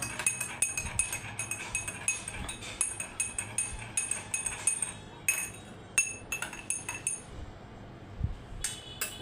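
A spoon clinks and taps repeatedly against glasses while stirring oil and water, with quick irregular bursts of bright metallic ringing that pause briefly and then resume.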